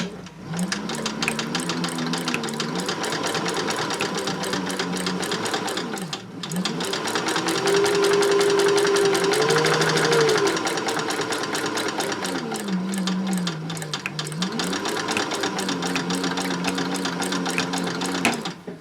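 Sewing machine stitching down the center of a denim jeans pocket at a long stitch length, a steady rapid mechanical chatter in bursts with brief pauses and a backstitch, close and alone.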